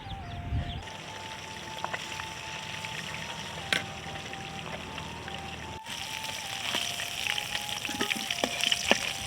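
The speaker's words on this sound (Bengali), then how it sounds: "মাছগুলো ভালো করে ভাজা হয়ে গেছে এখন আমি তুলে নিচ্ছি" Fish frying in hot oil gives a bright steady sizzle and crackle throughout, with a brief clatter at the start and scattered spits and pops growing busier toward the end.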